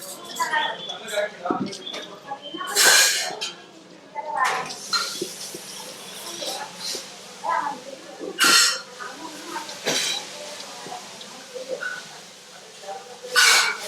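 Maddur vada batter mixed by hand in a bowl: scattered wet slaps and clinks against the bowl in irregular bursts, fairly close, while people talk throughout.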